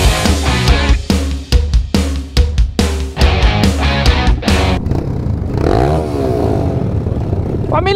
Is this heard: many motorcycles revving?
yes